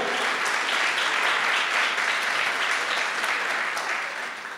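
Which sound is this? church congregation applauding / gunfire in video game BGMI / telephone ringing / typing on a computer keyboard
church congregation applauding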